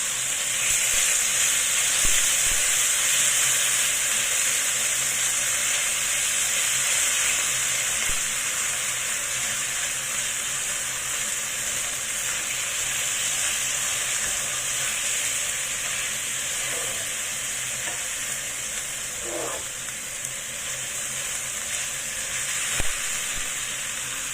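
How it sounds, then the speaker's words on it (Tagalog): Pork belly slices fry in a hot kawali, giving a loud, steady, hissing sizzle with no voices over it the whole time. "i-fry ko na yung ating pork. Ayan. Mainit na yung kawari, so pwede na natin ilagay."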